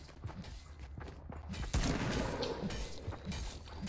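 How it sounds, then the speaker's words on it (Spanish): Gunfire in the video game Fortnite: a rapid, dense burst of shots and impacts that swells midway and keeps going, fairly close and loud over game noise. "Yo oigo disparo."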